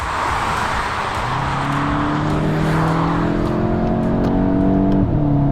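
A 2025 Volkswagen Golf GTI Mk 8.5 engine revs hard and climbs in pitch through several gears, loud and close, with a brief dip near the end before rising again.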